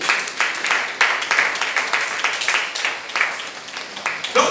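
Worshippers in a church congregation clap and applaud during a fasting and prayer service, a steady, dense patter of many hands that keeps going throughout, with voices mixed in.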